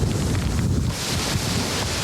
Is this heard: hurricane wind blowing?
yes